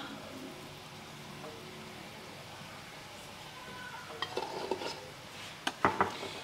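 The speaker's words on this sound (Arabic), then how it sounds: "غادي نخلطهم مزيان" Homemade eggless mayonnaise being stirred in a bowl, quiet at first, then a run of soft scraping and clinking of a utensil with a few sharper taps near the end, close and faint.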